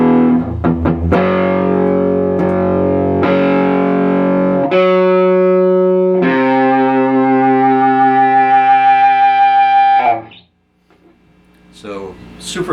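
Loud, heavily overdriven electric guitar through a boosted Laney Supergroup preamp clone: sustained distorted notes swell into squealing feedback, then cut off abruptly before a faint chord returns.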